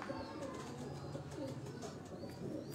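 Teddy breed pigeons on a rooftop loft, soft repeated cooing from several birds, fairly faint against a steady outdoor background hiss.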